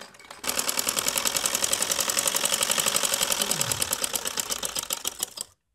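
A sewing machine runs steadily through fitting seams on a linen suit kameez, a fast, even mechanical whir with rapid stitch rhythm that starts abruptly, holds for about five seconds, then stops, close and loud with no talk.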